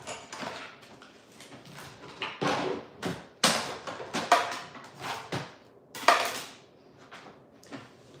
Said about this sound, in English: all that clanging around was I'm just rearranging my plates so that I'm ready to do die cutting next